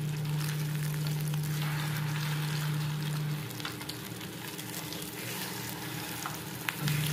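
Food sizzles steadily while frying in a pan in a home kitchen as part of a baked chicken leg and shami kabab meal, with a low hum that stops midway and the frying continuing alone.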